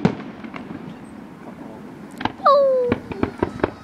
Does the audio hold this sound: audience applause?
no